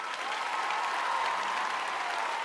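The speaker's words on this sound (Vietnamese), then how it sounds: "Một tràng pháo tay thật oanh liệt." A theater audience applauds for a lead performer of a stage troupe, a dense, even wash of clapping that holds steady throughout with no voices over it.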